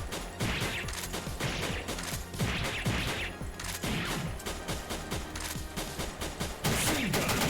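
Rapid bursts of machine-gun fire in a video game: repeated clusters of sharp, loud shots with brief pauses between volleys.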